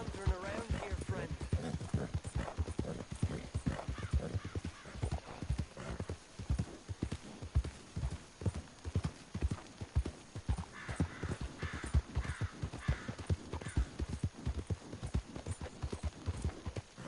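Horse hooves clip-clop steadily and continuously in Red Dead Redemption 2 on snowy ground, close and rhythmic throughout, with a voice speaking over part of the stretch.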